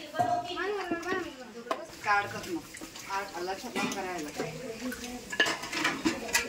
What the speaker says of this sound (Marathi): कशी भांडे घासते दाखव इकडे बघ